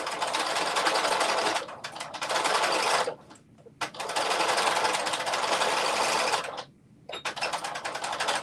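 A sewing machine stitching the bottom hem of a dress, running in loud close bursts of fast even stitching with two short pauses between runs.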